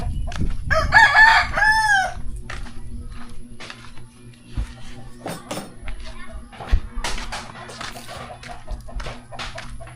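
A rooster crows loudly and close at the start, followed by scattered chicken clucks and farmyard noises, with people talking in the background throughout.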